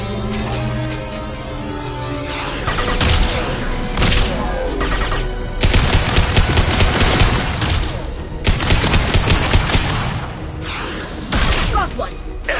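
Heavy weapons fire in Mass Effect 2: rapid bursts of dense gunfire and booming impacts, loud and close, coming in repeated volleys with short gaps, while voices shout over the battle.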